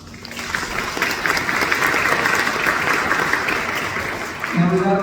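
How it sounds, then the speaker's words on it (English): A room of newly inducted nurses and guests applaud themselves at an induction ceremony, broad sustained clapping that swells and stays full throughout, with a faint voice cutting in near the end. "Give yourself a round of applause."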